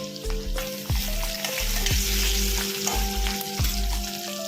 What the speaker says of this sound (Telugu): కొద్దిగా కరివేపాకు వేసుకున్నాను. చిన్నుల్లిపాయ అన్నీ ఎర్రగా వేగాయండి.